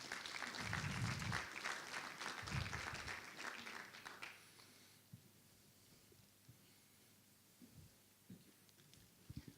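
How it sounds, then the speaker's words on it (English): An audience at a learning technologies conference bursts into close, hearty applause for about four seconds, then it drops away to a quiet room with a few scattered taps and small noises. "Applause."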